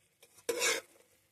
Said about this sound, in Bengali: এদিকে আমি রাইসটাকে নাড়ছিলাম।